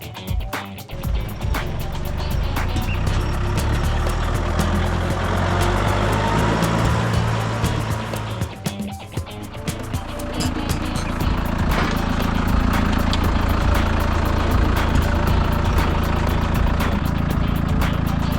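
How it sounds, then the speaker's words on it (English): Tractor engine running steadily near a 2 foot gauge railway, a continuous low rumble that dips briefly midway, then swells and holds loud to the end. "And get the tractor over here."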